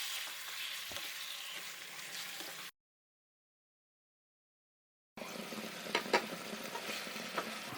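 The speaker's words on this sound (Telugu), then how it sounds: "ఇప్పుడు దీన్ని బాగా కలిసేలాగా కలుపుకొని మూత పెట్టుకొని కాసేపు ఉడికించుకోవాలి." Chicken pieces sizzle and are stirred in a pan for a chicken fry, with a soft, steady frying hiss and occasional scraping clicks, broken by a few seconds of silence midway.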